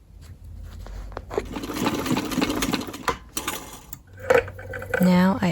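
A sewing machine understitches the waistband of an ecoprinted cotton mini skirt, whirring in uneven bursts with short pauses and light mechanical clatter, close and moderately loud.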